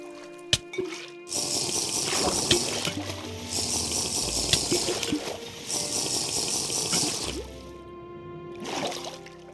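In a plane crash survival video game, water rushes and gushes continuously for several seconds, with rattling splashes and a few sharp knocks, loud and up close.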